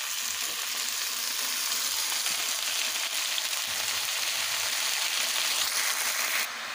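Pumpkin greens with ridge gourd and pointed gourd frying in a pan, a steady dense hiss of sizzling oil with faint stirring scrapes underneath, continuous and close throughout.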